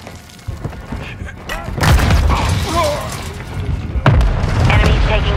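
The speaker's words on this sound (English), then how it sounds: "Put a mortar strike in the area." Two heavy mortar blasts from a strike in Call of Duty: Modern Warfare II, with a deep booming rumble at about two and four seconds over ongoing battle noise and game voice lines.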